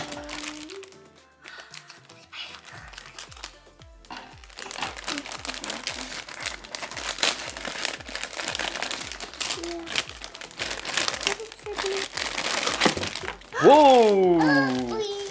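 Packaging crinkles and rustles as a dinosaur collection box is opened, with plastic wrap handled in bursts under steady talk from an adult and a child, then a sudden louder squeak near the end.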